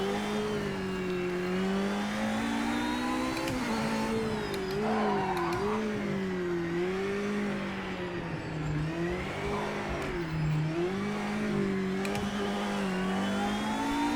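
A Porsche hypercar in the Project Motor Racing game revs loudly and continuously up close, with its engine pitch climbing and falling through repeated acceleration and gear changes.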